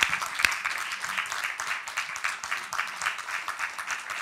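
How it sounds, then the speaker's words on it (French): Audience applause at the close of a talk with a sound professional about music supervision for cinema, steady clapping from a seated crowd sustained throughout at moderate level. "je vous prie d'applaudir chaleureusement Pierre-Marie Dru."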